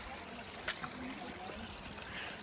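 A small stream trickling beside a crashed, wrecked light plane in woodland, a faint, steady watery murmur with a couple of brief knocks.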